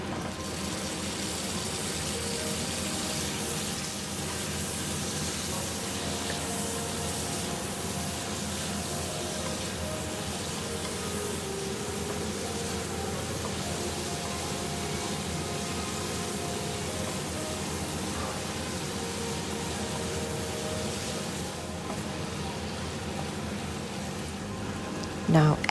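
Shaoxing wine drizzled over Chinese sausage stir-frying with basil, giving a steady, loud, broadband hiss and sizzle that holds evenly throughout.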